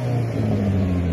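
A Jeep engine revving with steady, loud low rumble and harmonic drone, close by and continuous; distinct pops are not clearly separable within the sustained engine noise.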